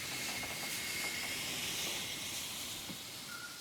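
A Skoda-built 1921 steam locomotive in Bucharest gives off a steady, faint hiss of escaping steam, broad and continuous with slight fluctuations, and no voices.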